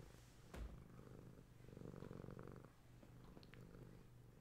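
A content domestic cat purrs close up in a quiet room, a soft rhythmic rumble that swells and eases, with one brief bump near the start and no talking.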